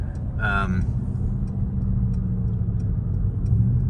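A Mercedes-AMG car cruises along back roads near Pittsburgh, giving a steady, low engine and road rumble from inside the cabin. A short voice sound rises briefly near the start.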